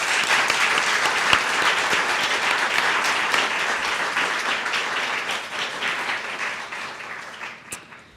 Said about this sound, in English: Please join me in another round of applause for our speakers.